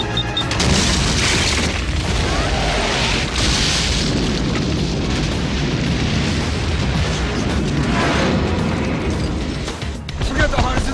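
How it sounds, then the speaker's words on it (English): A bomb explosion from the film Cliffhanger rolls out as a long, loud, dense boom with rumbling debris, mixed with dramatic sound effects and shouting voices throughout. "There's a bomb over your head!"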